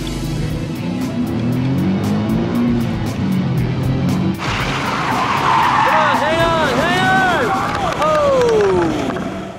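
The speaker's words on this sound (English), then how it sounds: "I controlled the braking fairly well. I did end up parking sideways." A Nissan car brakes hard and slides sideways into a parking box, its tires squealing and skidding loudly over steady engine noise, with voices nearby.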